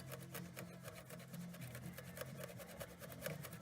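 A cloth rubbing Windex over the chrome of a 2006 Mini Cooper tail light, a quiet, rapid back-and-forth rasping with steady rhythm over a low hum.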